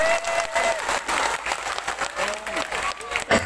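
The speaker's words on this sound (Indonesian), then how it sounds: "Tepuk tangan untuk pondok pesantren." Audience applause for Islamic boarding schools at a religious lecture, a steady crowd clapping that runs throughout, with voices and whistles riding over it.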